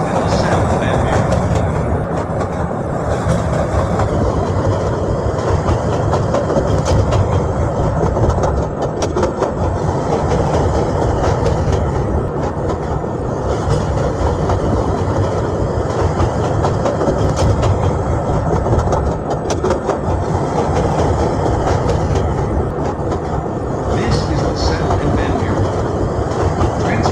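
A CTA Brown Line 3200 series train in a Roblox simulator rumbles steadily along the tracks, a continuous loud roar with faint rhythmic clatter throughout.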